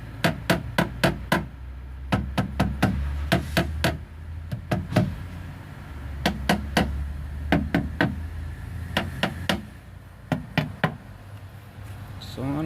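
A hand knocks on a car door panel fitted with sound-deadening mat, giving dull, damped thuds in quick bursts of several raps separated by brief pauses, close and fairly loud.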